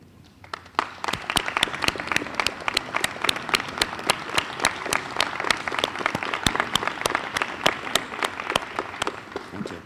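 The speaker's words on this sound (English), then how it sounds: "I'd really like to also give a round of applause and standing" Applause from parents and family at a university Dean's List reception, sharp individual claps standing out within a steady crowd patter that starts after a short pause and continues at an even level to the end.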